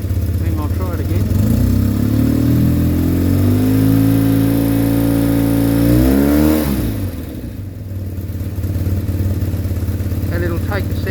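A motorcycle engine on carburettor balancers revs up loud and close as the throttle opens, climbing and holding high for several seconds, then drops back and settles toward idle.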